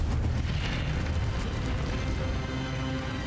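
Incendio fire spell from Hogwarts Legacy, a dense continuous roaring whoosh of flame that stays loud and steady throughout, with crackling texture and no speech.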